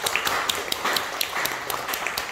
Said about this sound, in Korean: 우리 할머니가 이 박수를 듣고 있을 것이라고 생각이 들어요